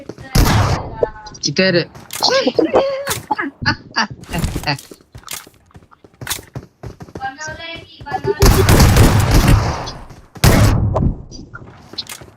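In a shooter video game, bursts of gunfire crack out repeatedly, several loud sharp shots and rapid volleys spread across the scene, mixed with excited talk between players.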